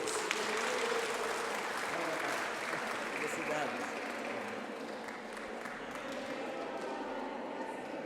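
A Catholic pastoral assembly of the Spanish-language mission in Cologne-Bonn breaks into loud, sustained applause from a packed hall, a dense patter that holds steady with a voice briefly heard over it.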